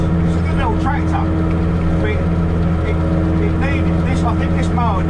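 A 50-horsepower Case 5130 tractor topping fields with a mower hums at a steady, droning pitch, loud and close, while a person speaks over the constant engine note.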